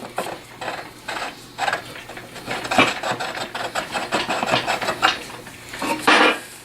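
Metal pin being worked out of a hurricane assembly unit, with scraping, tapping and clinking metal contact in irregular bursts, fairly close and ending in a louder rattle.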